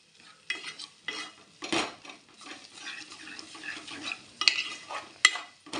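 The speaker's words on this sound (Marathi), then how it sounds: "आपण भाजी मिक्स टाकून घेतलेली आहे छान प्रकारे मिक्स करून घेऊया" A spoon scrapes and knocks through mashed vegetables for pav bhaji in a pan, giving irregular close strokes and a few sharp metallic clinks over a soft sizzle, with no one speaking.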